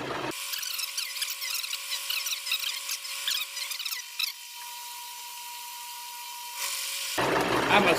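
A metal lathe cuts a dovetail tool blank, a close, steady tonal whine with gritty cutting noise that drops to a quieter hum partway through and then returns.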